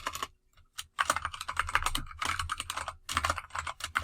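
Someone types steadily on a computer keyboard, with close, clattering keystrokes in uneven bursts and a couple of short pauses.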